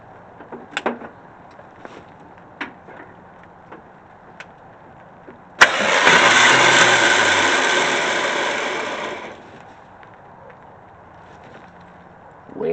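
A car starter motor cranks the engine in one sustained whirring burst of about four seconds, loud and close, after scattered faint clicks and knocks.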